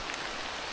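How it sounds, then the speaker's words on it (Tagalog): Rain falls in a steady, dense hiss, a brief wash of sound with no other events. "Pagka wala ng lakad, sumpong naman ang ulan."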